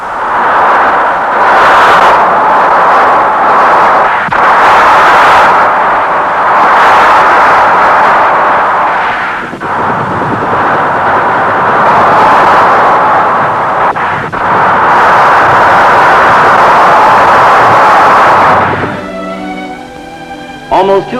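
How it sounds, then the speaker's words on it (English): A Rapid Fire Minigun fires in long, loud, continuous roaring bursts, a dense buzzing rattle with brief drops between volleys, then trailing rings near the end. "The developers of this new weapon call it the Rapid Fire Minigun."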